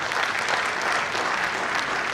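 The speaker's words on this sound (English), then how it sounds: "whom I still ask you to give a round of applause for his" An audience at a formal ceremony gives a round of applause, a dense, steady wash of clapping from many hands that holds level across the short span.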